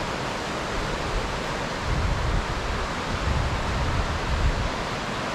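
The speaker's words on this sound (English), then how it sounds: "You can see the whitewater, hopefully, peeking through the trees." Whitewater on the New River in the New River Gorge near Fayetteville, West Virginia, running low, makes a steady broadband rush that swells slightly in the middle, heard through trees with no voices.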